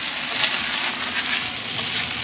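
Marinated meat sizzles in a pan at a camping glamping outing, a close, steady hiss and crackle of frying without any talk.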